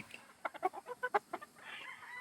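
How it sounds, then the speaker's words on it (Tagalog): Gamefowl chickens on a game farm range area cluck in a quick series of short calls close by, followed by soft rustling and low background noise. "Sanay ang mga manok sa range area kay Jayfern kaya hindi siya nahihirapang hulihin ang mga ito"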